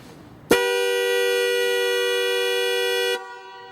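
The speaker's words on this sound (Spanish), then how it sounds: "automáticamente sonó el claxon" A car horn, set off automatically by a power outage, blares in one steady, unbroken blast lasting under three seconds, loud and close, then cuts off abruptly.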